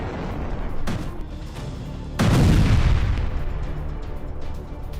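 An Israeli Air Force strike on Hamas in Gaza sets off two heavy blasts. A first boom is followed by a second, louder explosion whose deep rumble lingers and slowly fades.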